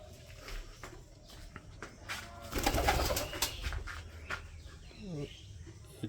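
Pigeons in a coop coo softly near a nesting box, with rustling and light footsteps around them and a brief swell of fluttering in the middle.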